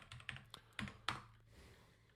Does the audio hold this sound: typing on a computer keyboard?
yes